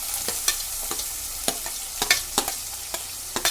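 Chopped onion, ginger and garlic fry in a pan with a steady low sizzle, punctuated by crisp, irregular spatula scrapes and taps, close up and with no voices.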